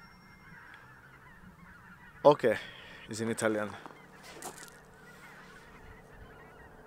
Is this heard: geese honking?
yes